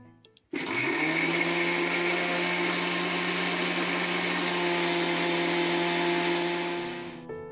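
A kitchen blender grinds peeled almonds into a paste, starting abruptly after a few faint clicks and then running as a loud, steady motor whir that holds for about seven seconds before winding down slightly at the end.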